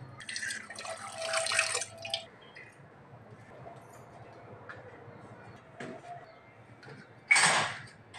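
Water poured into a cooking pot for tea in a village kitchen, with a splashing burst at the start and another short pour near the end, close and fairly loud with no talk.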